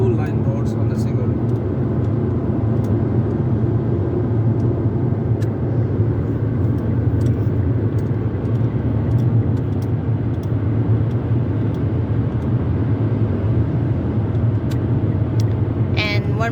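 A car driving on a two-lane Finnish road between Tampere and Helsinki, with a steady low road and engine rumble that barely changes throughout.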